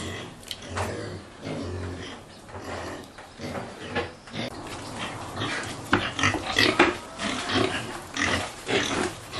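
Pigs at a pig farm grunt and squeal irregularly, several animals close by making rough snorts and oinks in uneven bursts, with clanking of pen gates or feeders mixed in.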